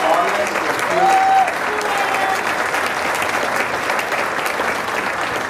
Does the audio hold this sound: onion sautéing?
no